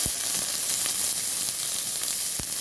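Onion and garlic sautéing in hot oil in a pan, a steady close sizzle throughout with a few brief clicks of a utensil against the pan.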